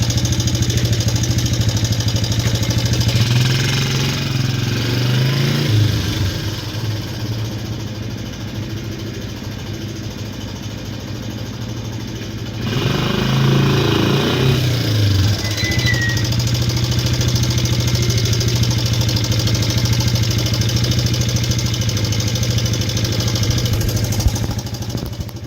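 A Suzuki LT125 quadrunner ATV engine runs loud and close for the whole stretch, mostly a steady idle, with a dip and rev change near the middle, and no voices.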